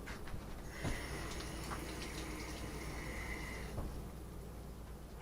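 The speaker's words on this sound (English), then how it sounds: "Just gotta rinse off my fingers here because I got them all gross." Water runs steadily from a kitchen tap as fingers are rinsed, a faint continuous hiss and splash that quiets toward the end.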